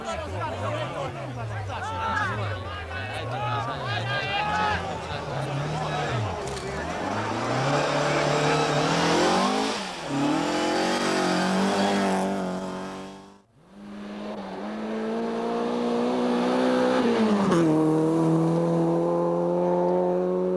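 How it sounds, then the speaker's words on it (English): A Ford Mark II Escort rally car rounds a corner and nearly spins, its engine revving hard and wailing through shifting pitch, loud and close, with a brief cut before it roars on; a narrator talks over it. "a Mark II Escort comes round the corner and nearly spins into them"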